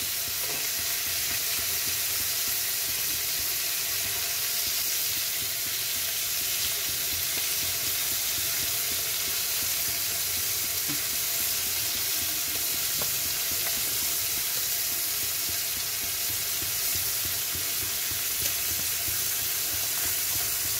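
Chopped onion fries in hot oil in a pan for a shrimp and taro-stem dish, a loud, continuous sizzle and hiss that holds steady throughout, with occasional faint stirring taps and no talk.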